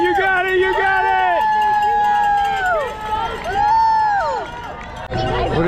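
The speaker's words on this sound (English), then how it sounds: "all the people still out here cheering for these runners" Roadside crowd at the New York City Marathon loudly cheering and whooping for passing runners, overlapping shouts and calls continuing throughout, close and energetic.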